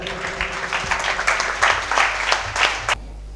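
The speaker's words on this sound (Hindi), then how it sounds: "आपकी भरपूर तालियों में" A mushaira poetry gathering audience breaks into applause, a dense rippling clapping from a sizable crowd that cuts off abruptly near the end.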